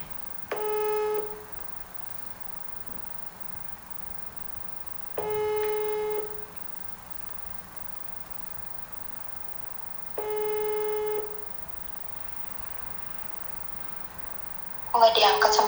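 An unanswered phone call rings out: three evenly spaced ringback tones, each about a second long, sound roughly five seconds apart against quiet background hiss, with a brief burst of other noise at the end.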